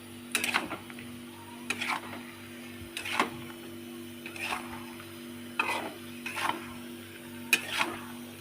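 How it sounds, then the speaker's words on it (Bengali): Mustard-poppy paste curry with shrimp, pumpkin, potato and greens being stirred in a pan: a steady run of scraping strokes, roughly one every second or so, over a low simmering hiss, close up and without talk. "জলটা ওখানে অ্যাড করে দেবো বেশ করে নাড়িয়ে নিতে হবে"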